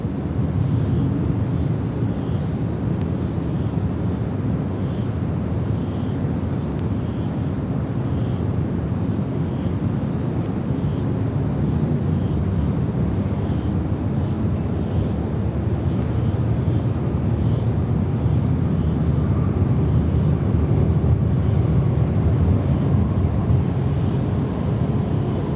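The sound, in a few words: Qantas Airbus A330-200 arriving on runway 34 left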